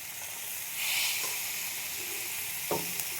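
Fish head, fried cauliflower and peas sautéing in a pan give a steady close sizzle with scraping stirs and a sharp clink near the end.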